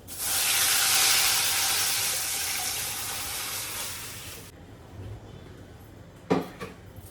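Red chili fries in hot oil in a pan with a loud, close, steady sizzle that fades after about four seconds, followed by a faint clatter of cookware.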